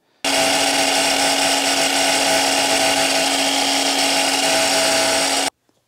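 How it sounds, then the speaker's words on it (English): Power saw cutting milled wood into small squares, a single continuous high-pitched whine at steady, loud level for about five seconds, starting and stopping abruptly. "I'm cutting all the milled wood into my little squares"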